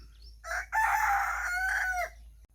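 A rooster crows in one long, loud, drawn-out call lasting about two seconds, with no other sounds or voices around it.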